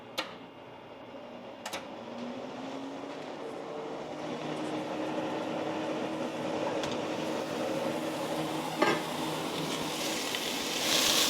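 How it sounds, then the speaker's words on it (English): A kitchen extractor fan runs over a cast-iron pan where beef sears without oil, producing a steady broadband whoosh that builds gradually, with a few sharp clicks and clinks on top and no talking. "I'm going to have to put the fan on so it's going to get a little noisy"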